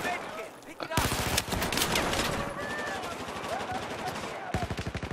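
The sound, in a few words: gunfire in a multiplayer shooter video game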